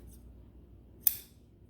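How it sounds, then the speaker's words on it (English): Scissors snip once through knitting yarn, a single quick close crisp cut against quiet background. "And now I can cut my yarn."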